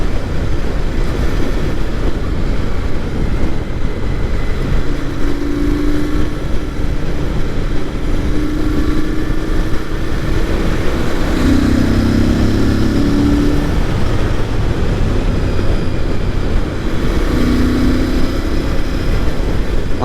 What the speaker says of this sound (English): the air filter and the exhaust working together to create a beautiful bassy sound